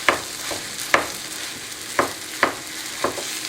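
Lean ground beef sizzles steadily in a hot pan while being broken up, with sharp scraping stirs recurring about every half second to a second.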